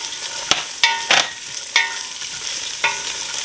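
Chopped celery goes into a pot of frying onion and gets stirred, a soft sizzle under several distinct scraping and clinking strokes of a spoon against the pan, close and fairly loud.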